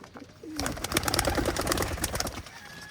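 Pigeons in a loft coo and rustle close by, a dense busy stretch of soft calls and fluttering that rises after a quiet start and continues steadily.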